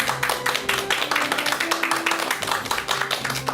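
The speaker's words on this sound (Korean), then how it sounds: "큰 박수 부탁드립니다." A studio audience claps for a guest lecturer on a talk show, giving a dense, steady patter of many hands at close to moderate distance, with no voices over it.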